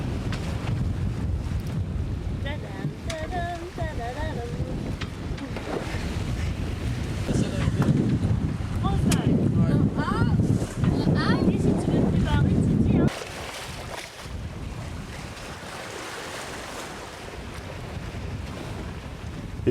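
Sailboat off Senegal pushing through a moderately rough sea at night in strong wind, with steady wind rush and broad wash of water against the hull, a heavy gust of wind buffeting the microphone before easing off.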